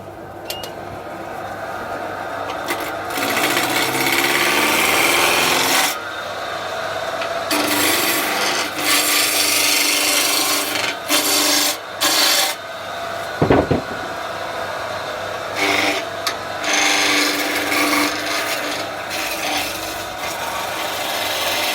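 A skew chisel shaves a wooden snowman spinning on a lathe, loud continuous hissing cuts broken by short pauses and bumps as the tool is repositioned, with no talking.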